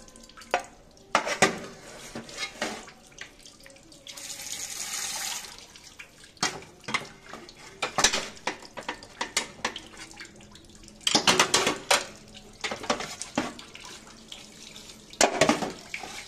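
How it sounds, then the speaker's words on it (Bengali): Water being drained off boiled eggs at a kitchen sink: intermittent splashing and pouring in bursts, with a steadier running stretch and clinks of a pot and utensils, close by with no talk. "জলটা ঝরতে দিই।"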